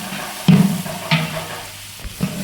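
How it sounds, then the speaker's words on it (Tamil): Onions frying in a large pot for mutton biryani are stirred, giving several scraping, sizzling bursts in an uneven rhythm, close and fairly loud. "நல்லா கிண்டி விட்டுக்கணும் நல்லா ப்ரௌன் கலர் ஆகணும்"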